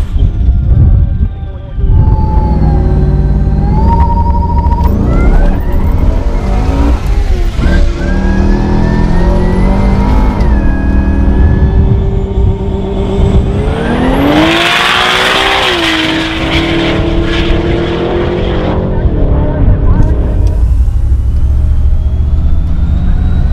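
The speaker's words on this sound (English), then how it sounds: "Making it to the final in the Tuner's Edge 235 radial class was Ari's supercharged LS3 powered VZ Commodore and Anthony's 1JZ powered Toyota Sora" A supercharged LS3-powered VZ Commodore and a 1JZ-powered Toyota Sora drag race on an airport strip, engines roaring loud and close with rising revs, gear changes and brief tyre squeal, no talk over the sustained noise.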